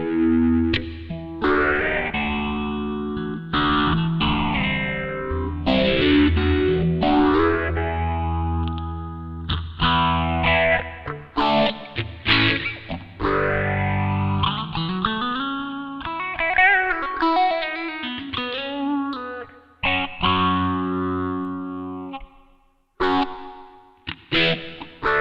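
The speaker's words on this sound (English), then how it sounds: "This has got some cool modulation on it." Electric guitar through a Sony HR-GP5 effects unit with a heavy, swirling modulation effect, chords and single notes sweeping and warbling with distortion, played alone and fairly loud.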